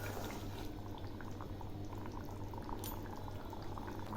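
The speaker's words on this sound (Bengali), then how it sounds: "রান্নাটা আরও কিছুক্ষণ ফুটবে।" A Bengali rui fish curry with ridge gourd and potato simmers in a pan, a quiet, steady low bubbling that continues evenly without any talking.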